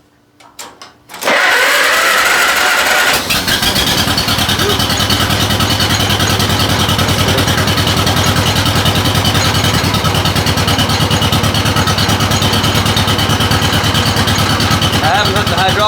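An engine on a machine is cranked with the choke on and fires up after a few short turns, then settles into a loud, steady, close-up idle that runs without a break.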